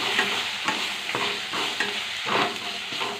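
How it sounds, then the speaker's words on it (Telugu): Tomatoes, peas, green chillies and turmeric being stirred and fried in a pan for chicken biryani, with steady sizzling broken by repeated spoon scrapes, close and alone. "కొద్దిసేపు వేగాలండి."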